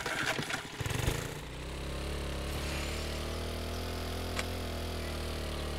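Minibike engine from the video game 7 Days to Die, running steadily with a constant mid-pitched drone after a brief rougher, louder start, heard alone without talk.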